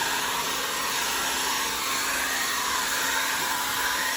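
A hair dryer blows into a broken TV to dry out moisture, a loud, steady, unbroken whir held close for several seconds with no talk.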